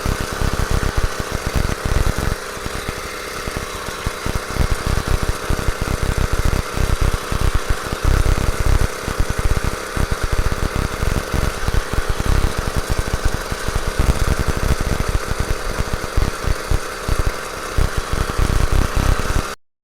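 A ported two-stroke engine on a 29 inch Mongoose motorized bicycle revs hard and steady throughout, a loud, raspy, continuous buzz with rapid firing pulses that stays close and unbroken for the whole stretch.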